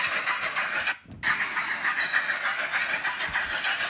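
A cartoon tank engine pulling an aquarium train puffs steadily down the track: a loud, continuous hissing chuff with a brief break just after the first second.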